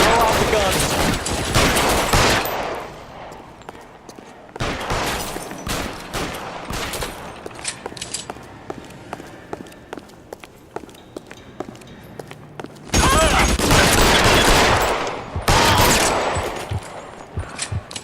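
Bursts of gunfire in L.A. Noire, rapid volleys of shots in several loud clusters separated by quieter stretches with footsteps.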